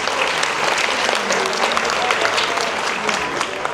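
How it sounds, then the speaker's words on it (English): Crowd applause for new passengers at a gathering aboard a Carnival cruise ship, a steady wash of many people clapping, with a voice faintly audible beneath. "Let's give them a round of applause."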